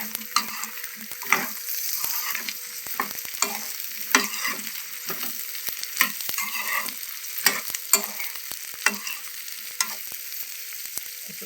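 Eggplant pieces being turned with a spatula among cooked onions in a pan, giving repeated scraping stirs over a steady close sizzle, with no talking.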